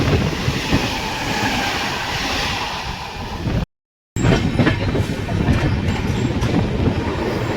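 The Sealdah–Sabroom Kanchanjunga Express with LHB coaches rolls past Dum Dum Junction with a loud, steady rumble and rhythmic rail clatter from inside the train, broken by a brief dropout midway.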